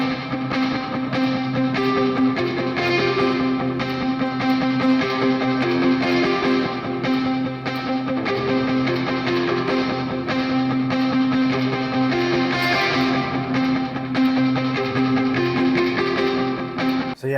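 An electric guitar played through a NUX MG30 multi-effects unit with stereo delay gives a continuous, loud, sustained distorted tone whose repeating notes trail into echoes throughout.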